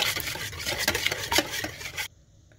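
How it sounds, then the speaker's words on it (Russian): A whisk beats eggs and milk in a bowl for a homemade omelette, with rapid, steady scraping and clinking strokes, close and busy for about two seconds, then stopping abruptly into near silence. "А теперь взбиваем венчиком до однородности."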